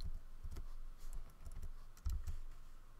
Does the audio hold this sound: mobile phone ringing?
no